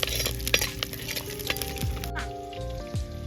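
Mustard seeds, curry leaves, garlic and green chillies frying in hot oil, a crackling sizzle mixed with spoon stirring and metallic clinks of a pan, close and fairly busy.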